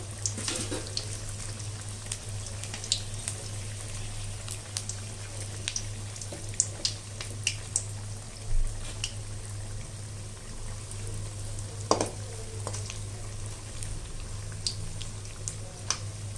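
Mangalore bonda frying in hot oil over a moderate flame, a steady low sizzle with scattered crackles and pops, close and fairly quiet, with no talk.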